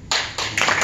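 Brief burst of hand clapping from a seated audience at an indoor installation ceremony for fishing association leaders, loud and close, swelling briefly before the clip ends.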